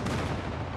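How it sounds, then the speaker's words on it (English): Friendly airstrike explosions in Call of Duty Mobile on the Nuketown map rumble as a dense, loud, continuous barrage of deep booms filling a short burst. "Friendly airstrike incoming."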